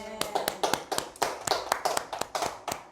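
Congregation in a church clapping together in a quick, irregular run of sharp hand claps, fairly close and continuous for the whole stretch.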